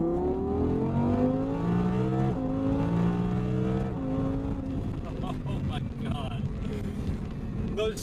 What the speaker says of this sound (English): Those shifts are so fast.